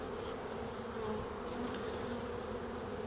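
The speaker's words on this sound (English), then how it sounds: "There's so many bees on here" Honeybees swarm over a hive frame during a hive inspection, a dense, steady buzz that stays close and constant throughout with no one talking.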